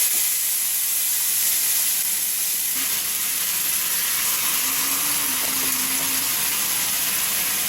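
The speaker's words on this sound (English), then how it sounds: "you want to hear that nice sizzle?" A steady, close sizzle of chicken searing in hot oil, a bright, even hiss that holds throughout with a faint tonal whine partway through.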